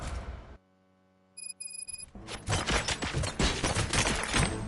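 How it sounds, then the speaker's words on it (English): Rapid bursts of video game gunfire erupt after a short silence and a ringing electronic tone, dense crackling shots filling the last two seconds, loud and close. "Gunshots? What's going on?"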